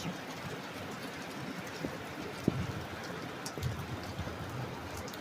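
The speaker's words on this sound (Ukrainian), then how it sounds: "І дощ, дощ, дощ, дощ, слава Богу." Steady rain falls outdoors as a constant soft hiss, with scattered heavier drops striking a surface here and there and no voices.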